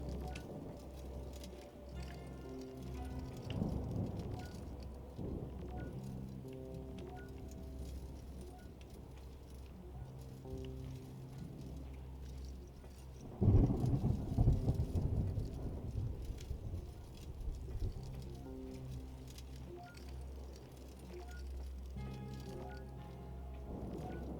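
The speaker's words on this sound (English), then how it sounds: "A 500-year-old storm?" Thunderstorm with steady rain in the video game Return to Grace, a constant low rumble of rainfall under droning ambience, with two heavier thunder swells, one early and a louder one about halfway through.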